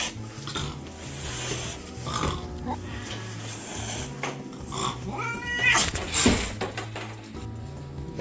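A house cat yowls in drawn-out, wavering moans with rising and falling pitch, close and fairly quiet, with rustling and low background noise between cries.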